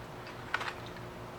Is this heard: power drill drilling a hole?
no